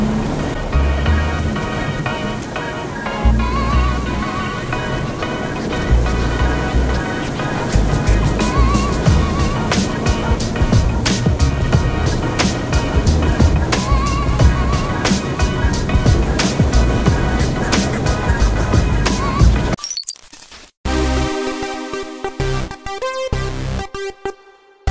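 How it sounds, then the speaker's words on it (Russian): A vehicle drives across a field with a steady, rough rumble of engine and a rushing, rattling wash of noise from wheels over uneven ground, close and continuous before cutting abruptly to a different, quieter hum near the end. "Так мы едем по полю"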